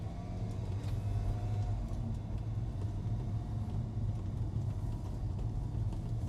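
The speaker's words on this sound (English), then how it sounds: "you will notice, because there's no sound insulation in the car, that there's quite a bit of road noise" Road noise inside an Alfa Romeo 4C Coupe with no sound insulation, a steady low tire and engine rumble with a constant roar while driving, fairly quiet and without talk.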